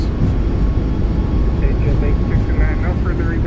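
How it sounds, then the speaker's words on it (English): Jet engine roar of a Boeing 737 MAX 8 in a flight simulator, with thrust reversers deployed on landing, steady and loud throughout while someone speaks over it. "Goes down gently. Reversers out. Decelerating."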